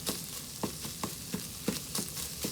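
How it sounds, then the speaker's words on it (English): Ground sirloin beef sizzles in a frying pan, a steady close crackle broken by repeated sharp spits and pops about every half second as the meat is stirred. "See, I love that sizzling sound"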